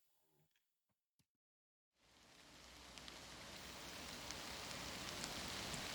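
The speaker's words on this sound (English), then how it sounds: "The sound of rain. That's what we woke up to today." Rain falling outside a camper van: after a couple of seconds of near silence with a few faint knocks, a steady hiss of rainfall sets in and grows gradually louder, with scattered drop ticks on the surface.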